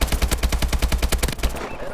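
Rapid automatic AK-12 rifle fire in Call of Duty: Advanced Warfare, a loud, close, evenly spaced burst of about a dozen shots, then a brief tail of quieter sound.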